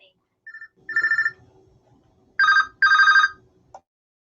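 A telephone rings with an incoming caller to a live talk show, giving a short electronic trill followed by two longer, louder bursts, clear and close with a faint background hum and no talking.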